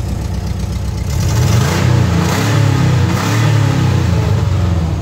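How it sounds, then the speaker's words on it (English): Engine of a 1983 VW Westfalia camper van being revved, a loud, close, steady drone that rises twice in slow swells and settles back, with no talking. "I'll rev it up a little for you."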